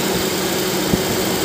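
Car engine idling with a rattling AC compressor belt tensioner, a steady, even drone with a faint vibrating buzz and one small knock, close and continuous with no talking.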